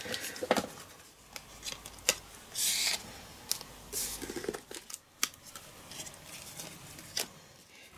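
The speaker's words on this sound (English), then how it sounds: "So I want to cut a 1/4 inch frame all round" Scissors cutting a quarter-inch frame border around a sheet of paper, with close, crisp snips and rustling paper handling in short irregular bursts and no talk.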